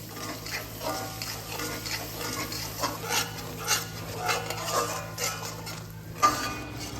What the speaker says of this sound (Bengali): ফ্লেমে দইটা ভালোভাবে মিশিয়ে নেব